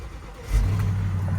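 The engine of a 2007 BMW X5 E70 catches and settles into a steady low idle, close by, after a brief surge.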